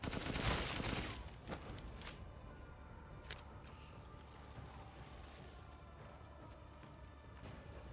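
A gun fires in the horror game Resident Evil Village: a loud blast opens, followed by a few sharper, fainter shots and a low rumbling tail fading under quiet ambience.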